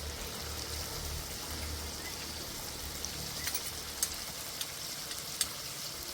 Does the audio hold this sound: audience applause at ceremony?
no